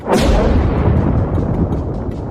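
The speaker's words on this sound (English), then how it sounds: "Or it could be the rumbling of a volcano, earthquake, or thunder." A loud, deep rumble bursts in suddenly and rolls on for a couple of seconds, like distant thunder, slowly fading.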